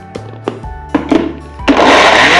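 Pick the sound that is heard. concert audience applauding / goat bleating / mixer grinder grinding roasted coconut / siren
mixer grinder grinding roasted coconut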